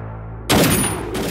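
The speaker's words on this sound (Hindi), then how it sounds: "सर ने गोली चला दी।" A single loud gunshot fired inside a police lockup cracks out of a quiet hum in a crime thriller, followed by a short ringing decay.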